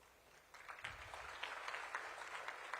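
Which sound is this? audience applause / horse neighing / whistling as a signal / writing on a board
audience applause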